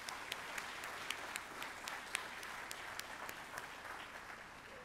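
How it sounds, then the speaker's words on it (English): A small, distant audience at a student awards ceremony applauds steadily for several seconds, the clapping faint but continuous with a few sharper individual claps standing out. "Let's give another round of applause to these amazing students."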